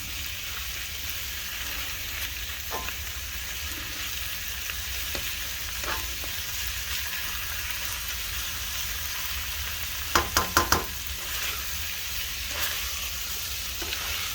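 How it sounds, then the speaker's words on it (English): Nasi goreng fried rice is stirred in a pan, with a steady soft sizzle of frying throughout and occasional scraping clicks of the utensil against the pan, including a quick cluster of scrapes near the end. "You want to constantly stir this so it doesn't burn. Scrape up the bottom as well."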